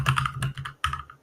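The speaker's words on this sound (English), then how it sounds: "on his really loud keyboard" Rapid clacks from a loud computer keyboard being typed on up close, a quick burst of keystrokes, a short pause, then another flurry.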